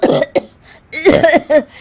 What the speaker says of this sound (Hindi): दोनों खांसने लगती है।